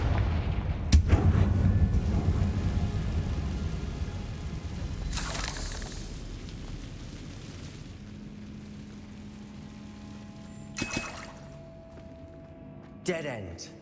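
Fire-spell blasts in Hogwarts Legacy: a heavy boom opens the sequence, with further sharp explosive bursts later, set against a low rumbling game ambience and occasional talk.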